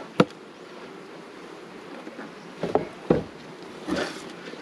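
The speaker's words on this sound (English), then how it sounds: "What you'll probably find is there's loads of bees under here." Honeybees buzzing in a faint continuous hum around hives being moved to the heather, with a few sharp knocks and thumps of the hive boxes being handled nearby.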